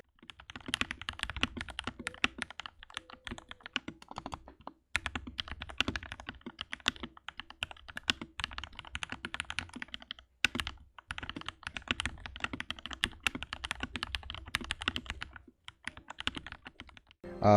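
Steady typing on a Lychee G66 gasket-mounted mechanical keyboard, with dense, rapid key clacks and thocks in continuous bursts, broken by two brief pauses, close and fairly loud with no talking.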